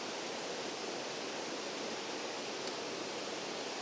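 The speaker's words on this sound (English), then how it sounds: "that waterfall is just amazing" Rutledge Falls pours in a constant broadband rush of falling water, a steady dense hiss filling the scene without pause.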